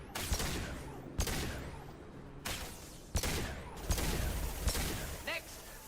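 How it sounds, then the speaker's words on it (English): Pistol shots ring out in a sci-fi space video game: a handful of loud, sharp reports spaced irregularly over dense background game noise. "I love the feel of this pistol."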